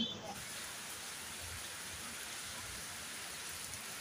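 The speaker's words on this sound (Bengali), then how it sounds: "বৃষ্টি পানি এখান থেকে ধরছি" Steady rain falls outdoors under a dark, heavily clouded sky, a dense even hiss of drops that stays at one level throughout with no voices.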